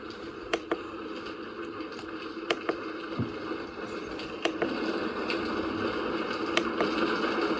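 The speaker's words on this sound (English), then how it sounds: "All right, that's rain." A rain sound played by a Young Living essential oil diffuser, a steady, even hiss of rainfall filling the clip, with a few sharp clicks and taps scattered across it.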